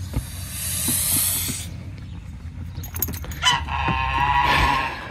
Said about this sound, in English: Quit your hissing.